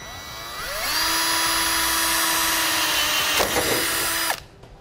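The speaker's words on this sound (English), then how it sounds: "Now we'll take a small drill bit, line up where we made our marks," A power drill with a small bit whines steadily for about three and a half seconds as it bores a hole into the body of a 2016 Ford Transit T350 van, then winds down and stops, close and loud.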